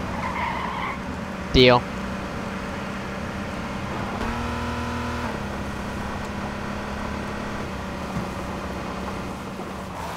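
A car skidding and driving in the video game H1Z1: a sharp tire-squeal sweep near the start, then a steady engine drone with a brief tonal rev in the middle, under a short spoken word.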